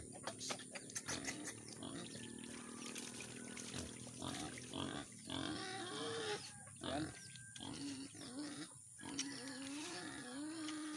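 Low pig grunts and snorts come in irregular bursts amid steady background noise and scattered clatter, fairly close by, as the pig is offered feed mixed with banana tree.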